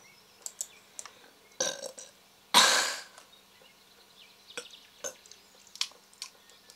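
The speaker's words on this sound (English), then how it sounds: "A lot of people burping in this episode there are." A loud, wet burp stands out in a comedic episode, with a smaller one before it. Faint ticks and clicks are scattered through an otherwise quiet background.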